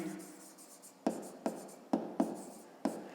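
Pen writing by hand on paper during a fifth-grade maths exercise, soft close scratching strokes with five sharp taps or dots over a few seconds, no speech.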